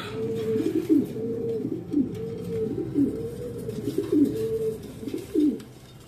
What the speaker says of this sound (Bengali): এটি পাকিস্তানি কবুতর